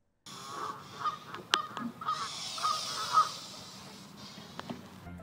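A video game goose honks about six times in a steady, evenly spaced series, each call short and mid-pitched, over a faint background hum.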